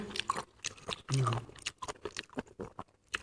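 Someone chewing and biting blanched cuttlefish tentacles, moist squishy bites close to the microphone, mixed with a person talking.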